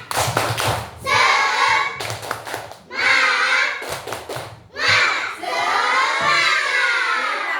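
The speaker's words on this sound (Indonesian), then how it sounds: "Kalau semangat, kita tepuk semangat dulu." Schoolchildren in a classroom clap out a rhythmic tepuk semangat chant, with loud bursts of group clapping and shouted voices in several phrases and short pauses between them.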